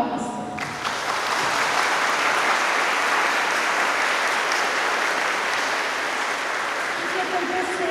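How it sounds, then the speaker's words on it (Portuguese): An audience at an arts festival thanks ceremony bursts into sustained, dense applause that holds steady and loud throughout, following a brief moment of a voice at the start. "A todos estes, uma salva de palmas."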